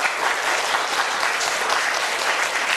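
A seated audience at a panel discussion in a Taiwan art museum applauds two guest teachers; the clapping is sustained, dense and even, close and loud, with no voices on top.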